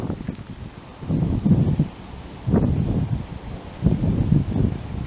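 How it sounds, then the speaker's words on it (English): Wind buffets an outdoor camera microphone on a breezy day, low rumbling gusts swelling and fading in three strong bursts over a steady blustery background, with trees nearby and no talking. "I'm sure you guys can hear the wind blowing in the camera microphone"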